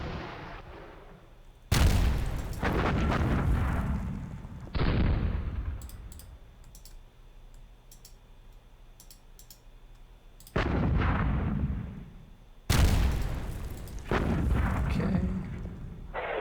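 Heavy artillery fire in the wargame WDS Panzer Campaigns: Kharkov '42, with several loud booming blasts that each fade slowly, separated by quieter gaps with faint clicking.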